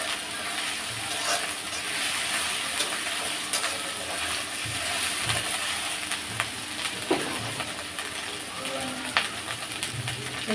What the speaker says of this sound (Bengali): পেস্টটা একটু ভেজে নিচ্ছি